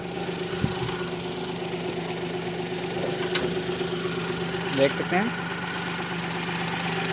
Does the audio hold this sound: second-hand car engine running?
yes